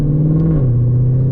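A Ford Mustang GT500 engine drones steadily while driving, a loud, close low rumble heard from inside the car, its pitch easing down slightly partway through, with no talking.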